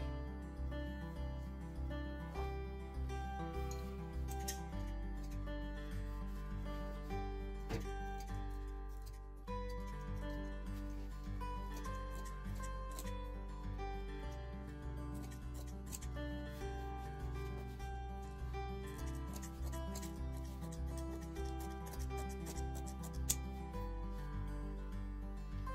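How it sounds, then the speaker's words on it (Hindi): Scissors cut a straight line through fabric for a lounge robe, making repeated soft snipping and rubbing sounds over steady background music, with no talk. "तो हम पहले यहाँ से स्ट्रेट काट करके और अपना बैक पीस अलग कर लेंगे।"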